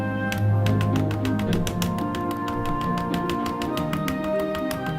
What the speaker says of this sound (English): You guys can hear how bad I'm clicking.